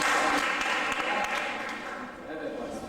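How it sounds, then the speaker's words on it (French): A group claps together in a dense, steady wash of applause that slowly softens toward the end. "Applaudissez pour vous-même."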